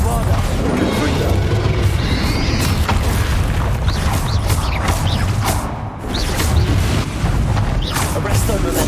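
Bombarda and Confringo explosion spells go off in Hogwarts Legacy combat, a dense, loud barrage of booms and crashes layered with game effects and a continuous voice talking over it.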